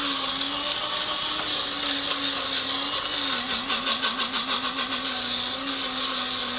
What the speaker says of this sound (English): I don't like the coffee grinds to be too big, so I let it grind for a fair bit.